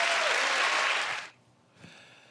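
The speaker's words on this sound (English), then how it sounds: "And the crowd goes wild" A crowd applauds with a dense burst of clapping that cuts off abruptly after about a second, followed by near silence and a faint thump.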